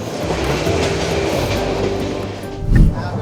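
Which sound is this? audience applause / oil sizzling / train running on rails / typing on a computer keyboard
train running on rails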